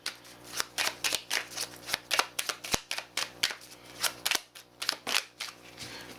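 Tarot cards are shuffled by hand at close range, with quick, crisp riffles and snaps repeating in a steady, uneven rhythm and no voice over them.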